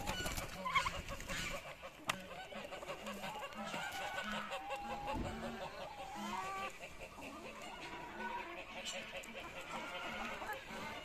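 Young Padovana hens squabble in a henhouse after being newly introduced, with faint scattered clucks and sharp short calls over several seconds.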